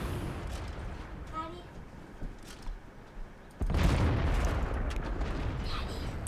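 Tank gun firing in World of Tanks, several sharp booms spaced across the first seconds, then a sudden louder sustained blast of heavy noise, with someone talking in between.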